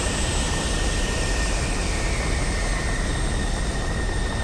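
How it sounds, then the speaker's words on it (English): An F-16 fighter jet engine from a video game roars as a steady, dense, loud whine and rush, unbroken for the whole few seconds with no voices. "F-16 fighter plane sound in the game."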